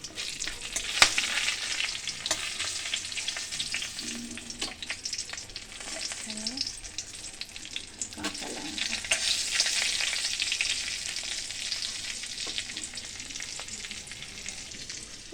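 Bay leaves fry in hot oil for a paneer curry, a continuous bright sizzle with occasional spatula scrapes and pops, close and fairly loud, with no talking.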